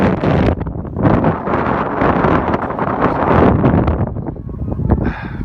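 Wind gusting across a snowy mountain at a ski resort, a loud, rough roar buffeting the microphone in continuous surges, close and unbroken, with no voices.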